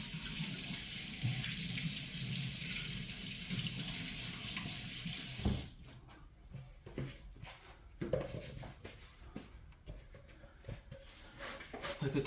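Tap water runs steadily into a kitchen sink while hands are washed, loud and continuous for about five seconds, then cut off, leaving quieter splashes, drips and handling sounds.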